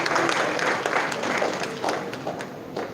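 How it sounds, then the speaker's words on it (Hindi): An audience at a Doctors Day award ceremony in New Delhi claps for a doctor being honored, steady, moderately loud applause sustained for a few seconds without speech. "तो डॉक्टर वेद प्रकाश मिश्रा के लिए तरह भरपूर तालियां हो जाए"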